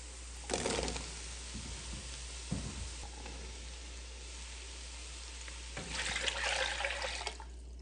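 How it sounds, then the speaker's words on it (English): Carrots, potatoes and stock go into a pot of butter-softened vegetables for Finnish salmon soup, making a short splashing sizzle at the start and a longer pouring hiss near the end over a quiet background. "So I'm going to go ahead and add my carrots, potatoes, and stock."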